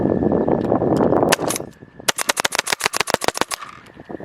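A paintball gun fires at targets outdoors, a rapid burst of about a dozen sharp, loud pops in quick rhythm following a rushing hiss of wind noise.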